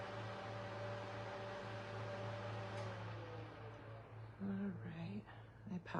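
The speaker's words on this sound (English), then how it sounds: "apologize for the noise of the heater." A room heater drones continuously with a steady low mechanical hum and broadband whir, with some faint handling noises and shuffling near the end.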